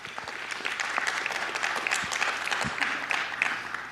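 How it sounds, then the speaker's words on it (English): Wedding reception guests clap for the matron of honor, a steady round of applause from a medium-sized crowd that continues evenly throughout, with no speech over it. "Let's give another round of applause for the matron of honor, Anu Thomas."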